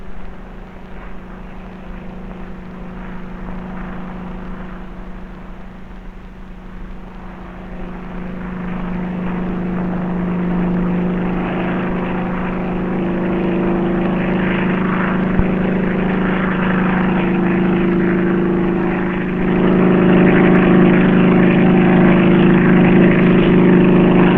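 Helicopters from HMS Victorious airlift cattle across the flooded Subaki river during a 1960–61 Far East deployment. A continuous rotor-and-engine drone holds steady, then grows louder and fuller toward the end, with no speech.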